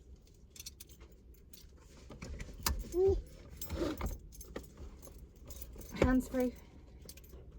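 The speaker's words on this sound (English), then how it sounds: "Oh, they're mummy's keys." A bunch of a mother's keys jangling close by in short metallic bursts, rattled a few times amid soft background noise while an adult talks to a small girl.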